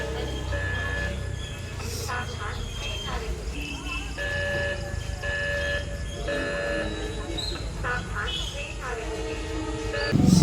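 A train drawing near, rumbling and clattering steadily with bell-like tones ringing over it, while people talk nearby throughout.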